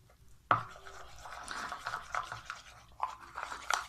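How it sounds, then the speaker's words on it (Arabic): A utensil stirs and scrapes through a thick face-whitening cream mixture in a small container, with soft irregular rubbing strokes and a few sharper clicks against the side, close and quiet, with no talking. "نزيدو ونحركو حتى نتحصلوا على خليط متجانس"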